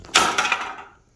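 A single heavy metallic clunk as a dense lead body piece from a 1957 Thunderbird hits the ground, with a short dull ring fading out within a second.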